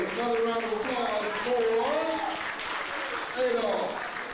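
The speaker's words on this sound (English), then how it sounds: "Another round of applause" Applause for a poet at a San Francisco poetry event rolls on as a steady background of crowd clapping, while a voice talks prominently over it.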